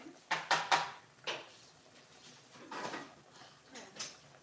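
A cooking pot is handled in a home kitchen while preparing an evening meal, giving a few sharp metallic clanks and scrapes in quick succession, then softer knocks and shuffling, fairly quiet and close.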